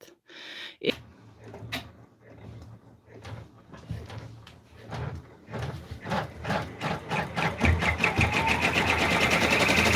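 An embroidery machine stitches an in-the-hoop raccoon stuffed toy, starting with a few scattered clicks and thumps, then settling into a steady, rapid needle rhythm that grows louder and denser toward the end.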